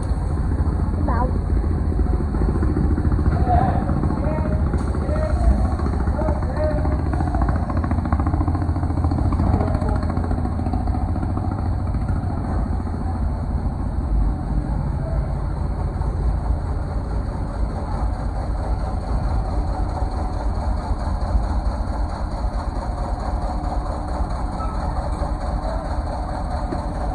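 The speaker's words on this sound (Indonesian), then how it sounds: "Ramdor perlahan tertutup, menciptakan suara berderit yang bercampur dengan riuh mesin kapal." A ferry's heavy ship engine rumbles continuously with a dense, steady low drone and faint rattling as the vehicle ramp closes, and voices murmur underneath it.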